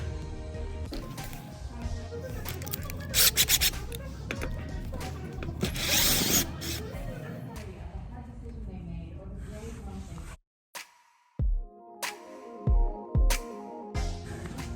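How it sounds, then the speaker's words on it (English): Metallic clicks, scrapes and ratcheting of hand tools loosening screws on barrel rings, with short sharp knocks near the end. "I'll just loosen up all these screws here"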